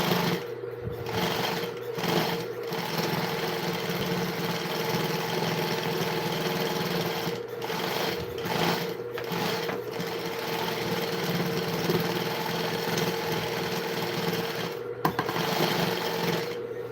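A sewing machine runs steadily in a home workshop in Bulacan, a continuous mechanical hum with a few brief pauses and restarts, fairly loud and close, with no talking over it.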